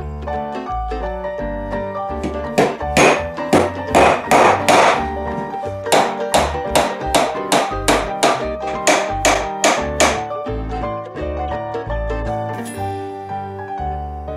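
Oval head nails are hammered into a small wooden wall cupboard in fast, loud, ringing blows, with clustered runs of strikes and brief pauses between them.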